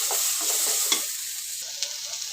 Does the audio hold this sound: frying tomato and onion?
yes